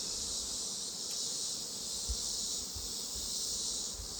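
Honey bees buzzing around an opened hive being checked and reduced for winter, a continuous dense hum of many insects close by, with faint soft bumps underneath and no talk.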